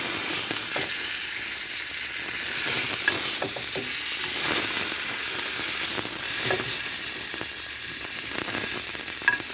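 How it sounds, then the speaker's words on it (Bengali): Pieces of grass carp sizzle loudly in hot oil with a steady close hiss and occasional pops and spatters, continuous and without speech. "মাছগুলো আমি ভেজে নেব"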